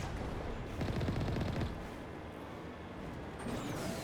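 Cannon fire in the video game Mass Effect, a burst of rapid, rumbling shots up front that fades into a steady low din, with a brief rising whine near the end.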